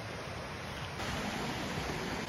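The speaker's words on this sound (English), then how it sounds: "I do hear running water somewhere down there" Mountain stream running below a trail in Rocky Mountain National Park, a steady broadband rush of flowing water, continuous and fairly close with no other sounds.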